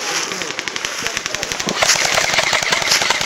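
Airsoft guns fire in rapid, steady bursts during an outdoor skirmish, a loud close chatter of many shots running continuously with little pause.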